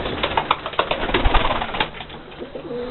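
Pigeons in a young bird loft give soft, rhythmic cooing calls in quick repeated pulses, close by, with low throaty tones and no talking.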